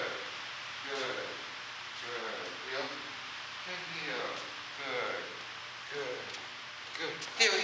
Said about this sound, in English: It's just rain on the roof.